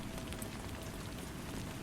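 Steady rain falling on a surface, a dense, even hiss of drops at constant loudness with no voices or other sounds.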